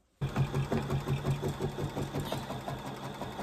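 An embroidery machine starts up and stitches a basting box around fabric, its needle hammering in a steady rapid rhythm that stays close and even.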